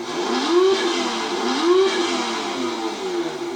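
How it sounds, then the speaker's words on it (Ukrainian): A children's electric quad bike motor revs hard in repeated rising whines while the vehicle refuses to move, a loud close mechanical drone with periodic swells and no talk over it. "Так потужно газує, але їхати не хоче"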